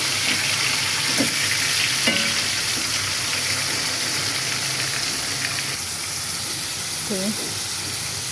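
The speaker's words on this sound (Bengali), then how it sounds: "মাছগুলো একটু ভাজা হয়ে গিয়েছে" Fish frying in a pan with garlic and mustard paste gives a steady, close sizzle throughout, with a few soft scrapes and clinks as it is stirred.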